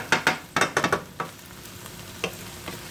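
Food tossed in a frying pan on a stove, heard as a few quick scraping, sizzling bursts close by, with quieter tosses trailing off afterward.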